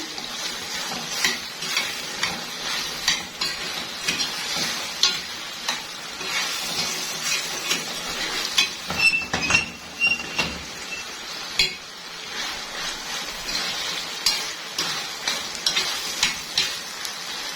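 Alexandrian-style liver sizzling in a pan, with a continuous crackling fry broken by repeated clinks and scrapes of a utensil stirring against the metal.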